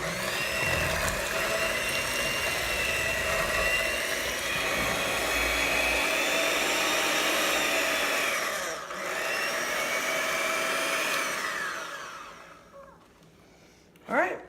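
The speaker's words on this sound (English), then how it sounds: "We're going to use our hand mixer and we're going to put it down in there and mix it up" Electric hand mixer whirring steadily through thick homemade concentrated laundry soap, a loud continuous drone that dips briefly midway, then winds down and stops near the end.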